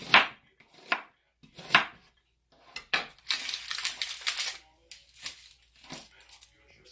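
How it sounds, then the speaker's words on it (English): Aromatics for a roast turkey being cut into pieces with a knife on a board, a series of crisp separate chops with pauses between, plus a longer crunchy stretch of cutting in the middle. "So I usually just cut it into pieces like this."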